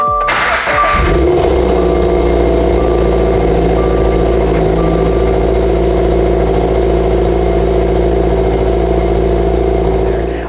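A 2022 Subaru BRZ engine cranks and catches about a second in, then settles into a steady, loud idle recorded up close, with no one talking.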